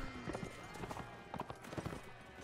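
Horse hooves clatter in a battle in the video game Mount & Blade Warband, a busy, uneven clip-clop of several mounts under a low rumble, with occasional voices.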